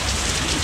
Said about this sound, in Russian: Ну дождик не хилый такой, столбарь